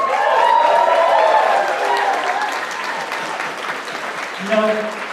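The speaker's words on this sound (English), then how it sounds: "Andrew, all the way from Texas, let's give him a round of applause." Audience applause at a comedy roast, a dense burst of clapping and cheering from a crowd that runs strongly through the first seconds, then thins as a voice starts talking over it.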